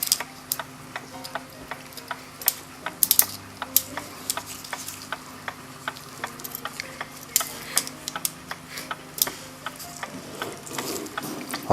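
Gilbert American kitchen clock movement being serviced, with a steady run of sharp metallic ticks and clicks from the wheels and pawl being spun, close and clear with no talk.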